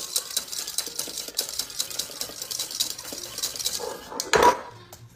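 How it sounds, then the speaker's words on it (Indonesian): A spoon or utensil scrapes and clinks rhythmically against a bowl while chocolate cake batter for a steamed cake is stirred by hand. The clatter is close and steady, with a louder knock near the end. "Penat pula nak kacau benda alam ni."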